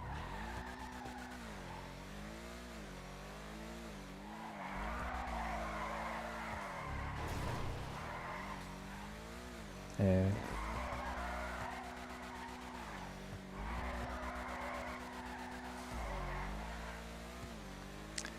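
Ubermacht Cypher car in a video game drifting through corners, engine revving and rising and falling while tires squeal in long continuous bursts, loud and close throughout.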